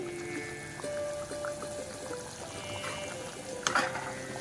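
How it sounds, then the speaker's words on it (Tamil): Cooking oil is poured into a pan for prawn gravy in a soft, thin trickling stream, quiet and close, with a brief clatter near the end. "தேவையான அளவு எண்ணெய் ஊற்றிக்கிறோம்"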